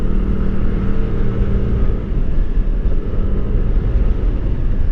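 Motorcycle fitted with a new pulley riding on the road, its engine droning steadily and loud with constant low rumble and wind, no talking.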